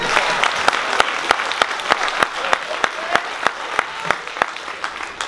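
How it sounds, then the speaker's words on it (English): An audience claps during a live Q&A session aboard a summer festival cruise, a steady loud roll of hands punctuated by crisp individual claps close by, with some voices underneath. "Clap for that too."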